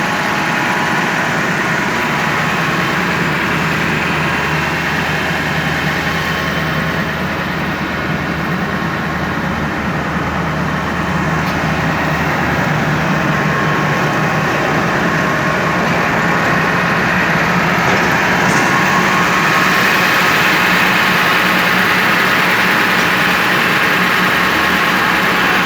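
A tractor engine idles beside a silage machine, a loud, steady low rumble with mechanical vibration that runs unbroken for the whole stretch with no voices.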